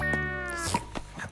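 An animated cat gives a single drawn-out meow that slides downward, followed by a couple of brief soft clicks, close and clear with no talking.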